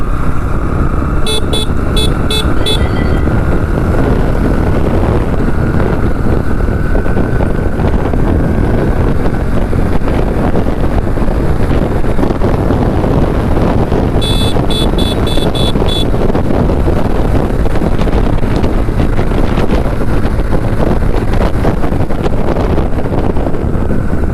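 A Honda CB Hornet 125 motorcycle (2025) ridden at top speed, with loud, constant wind roar buffeting the microphone over the engine drone, plus brief beeping chirps twice along the way.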